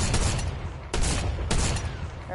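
Gunfire in Fortnite, three loud, sharp shots spaced roughly half a second apart over a busy background of game noise.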